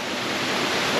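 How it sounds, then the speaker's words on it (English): Steady, broadband roar of a waterfall with no breaks or variation, close and fairly loud, heard alone. "That's a waterfall."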